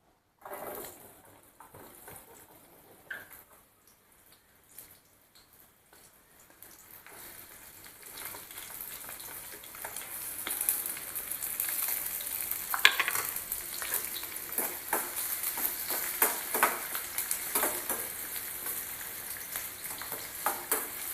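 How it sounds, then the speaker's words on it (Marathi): Onion sautéing in oil in a pan for Maggi noodles: a few scattered stirring clicks at first, then a steady hissing sizzle that swells and continues with occasional spatula scrapes, close and moderately loud. "कांदा आहे तो चांगला परतून घ्यायचा आहे"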